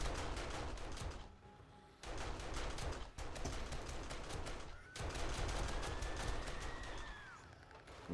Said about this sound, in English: the freaking MG down there is really working hard